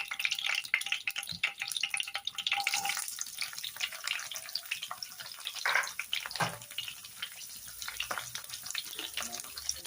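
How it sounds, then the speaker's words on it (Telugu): Chopped onions, green chillies and a little cumin fry in a pan for tomato rasam, giving a steady, close crackling sizzle throughout with occasional stirring scrapes. "అలాగే కట్ చేసి పెట్టుకున్న ఆనియన్, అలాగే పచ్చిమిర్చి వేసుకోవాలి."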